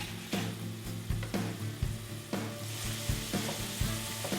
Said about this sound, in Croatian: Malo ću promiješati luk.